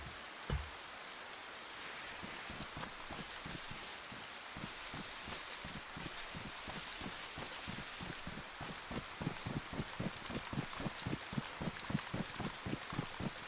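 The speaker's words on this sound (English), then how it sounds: "I think this rain is killing my frames." Steady rain hisses across the scene in the survival game DayZ, a dense even wash with faint repeated ticks and patters running through it, no voices.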